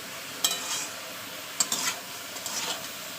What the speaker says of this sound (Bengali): এবার আমি এটা কষাতে থাকবো।